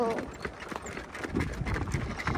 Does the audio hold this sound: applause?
no